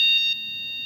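A school alarm gives out a steady, piercing electronic tone that holds on at a constant pitch, loud and close, briefly stronger at the start before settling to an even level.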